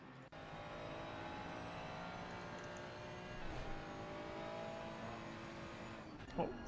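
McLaren and Ferrari GT3 race cars lapping Misano in a sim racing game, a steady faint engine drone with shifting revs and a brief surge near the end, under commentary.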